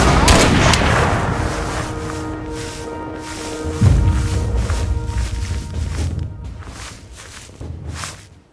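Enemy gunfire in the war game Mud and Blood: several sharp shots ring out, with a heavy boom near the middle and scattered reports trailing off.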